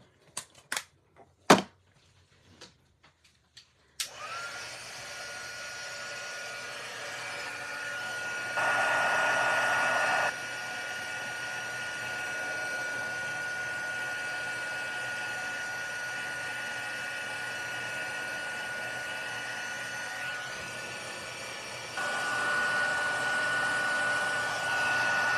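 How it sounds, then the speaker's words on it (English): A heat gun melts gold embossing powder on a Christmas card label; a few sharp clicks come first, then a steady close blowing whir runs for about twenty seconds, with a brief louder surge partway through. "we're ready to heat emboss"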